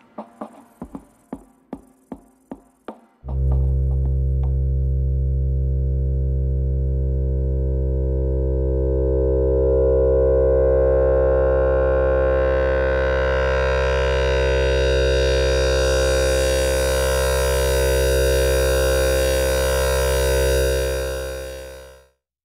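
A Korg MS-20 analog synthesizer with filter and ring modulation: a run of short plucked blips, then a loud sustained buzzing tone whose filter slowly sweeps upward for about twenty seconds before cutting off.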